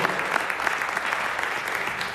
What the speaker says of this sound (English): Let's give them one more round of applause, coaches.